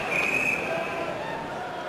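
A referee's whistle gives one brief, shrill blast during an NHL ice hockey game between the Colorado Avalanche and Calgary Flames, partly buried in steady arena crowd noise.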